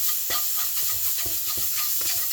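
Fried rice with chicken and a seasoning paste gets mixed in a hot pan, a continuous loud hissing sizzle broken by irregular scrapes and knocks from the stirring utensil.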